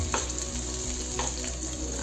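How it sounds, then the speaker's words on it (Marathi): Peeled, finely chopped potatoes fry in hot oil with a steady close sizzle, broken by a few faint stirring scrapes and no voices. "आता आपण बटाटे फ्राय करून घेऊ।"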